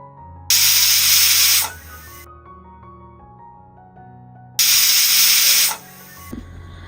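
Two loud bursts of pressure cooker whistle steam hiss while cooking mackerel on medium flame, each lasting over a second, separated by a quieter stretch of low kitchen hum.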